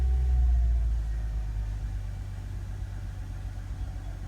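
A Mercedes-Benz C240 idles steadily after a fuel pump replacement, its engine giving a low, even rumble that holds constant throughout with no voices over it.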